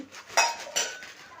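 A spoon scrapes and clinks against a metal cooking pot while coriander and salt are stirred in, two distinct close metallic knocks followed by softer scraping.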